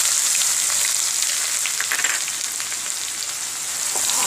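Chopped onions and cumin fry in a pan for egg curry, making a loud, continuous, close-up sizzle with no voices.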